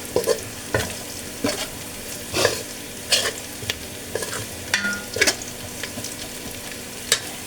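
Catla fish frying in a mix of mustard and soybean oil, with stirring scrapes and bursts of sizzle coming in irregular pulses over a steady low crackle, close and alone with no voices.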